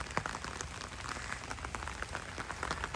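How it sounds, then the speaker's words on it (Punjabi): Steady rain patters faintly and evenly on surfaces, a continuous hiss scattered with small drop ticks and no voices. "ਮੀਂਹ ਹੁਣ ਸਪੀਡ ਫੜੀ ਜੀ ਫੇਰ ਦੁਬਾਰੇ ਚੱਲ ਪਿਆ"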